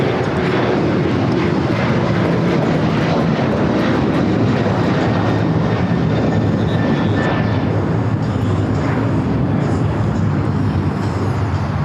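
An airliner arriving at LAX airport produces a continuous loud, broadband jet roar that holds steady throughout, close and without pause, with no talking.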